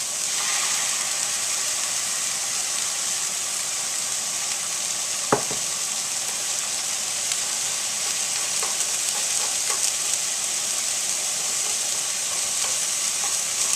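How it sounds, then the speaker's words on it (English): Scrambled egg cooking in a pan alongside riced cauliflower for shrimp fried rice, a steady, close sizzle that holds without a break, with one sharp tap partway through. "Next up is my scrambled egg."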